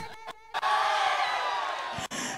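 Supporters of Palghar 11 at a cricket final shout together in a loud, sustained burst of massed voices, framed by a couple of short knocks before and after.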